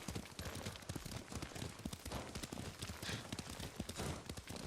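Horse hooves clopping at a quick, steady pace while riding in Ghost of Tsushima, close and continuous throughout, with faint voices in the background.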